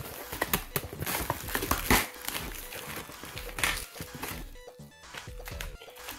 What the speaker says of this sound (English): So we got the keyboard that's wrapped in plastic wrap.